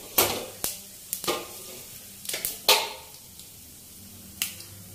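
Fenugreek and cumin seeds crackle in hot oil as a spring onion sabzi starts, with sharp sizzling pops and a few clinks of a spoon against the pan, close and fairly quiet.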